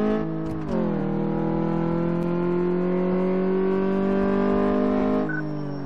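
A car engine in the Car Mechanic 2014 video game revs up and then holds a loud, steady droning hum as it drives, with a brief shift in pitch near the start and a drop in tone near the end.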